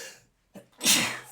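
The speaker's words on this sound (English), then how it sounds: "I think I sneezed with some force." One forceful human sneeze, a short sharp intake then a loud, close burst of breath, heard alone.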